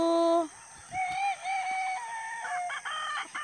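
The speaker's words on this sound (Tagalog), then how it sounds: "Ayan po ang area ng aking maliit na manukan." Chickens in a small backyard coop, with a rooster crowing up close followed by a run of clucks and calls, and no talking.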